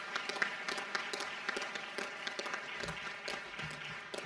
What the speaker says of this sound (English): if we could have a round of applause for those honorable mentions.